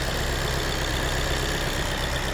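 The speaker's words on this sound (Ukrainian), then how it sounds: "Мотор працює як годинник" A steady, low engine hum runs evenly throughout with no voices, the constant rumble of a motor idling nearby.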